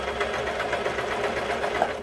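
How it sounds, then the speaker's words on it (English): A sewing machine stitches a long scrunchie seam in one continuous run, its needle tapping in a fast, even rhythm with a steady motor hum, close and alone. "I'm going to sew all the way down"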